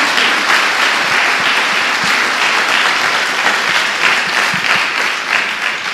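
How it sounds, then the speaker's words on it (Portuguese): A church congregation claps in loud, sustained applause that fills the room evenly, with no voices standing out. "Dê uma salva de palmas a Jesus."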